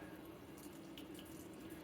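A light stream of cold tap water runs steadily and faintly into a sink, a soft continuous hiss with no talking.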